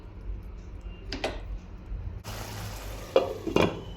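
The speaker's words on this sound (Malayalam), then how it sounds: "ഇനി ഇത് തക്കാളി നന്നായിട്ട് വെന്തുടയുന്ന വരെ ഒന്ന് മൂടി വെച്ചിട്ട് ഒന്ന് വേവിക്കാം" Tomatoes and salt cooking in a pan for chana roast, with a soft sizzle, a few scraping stirs and clinks of a utensil against the pan, then a louder frying hiss and lid sounds; no talking.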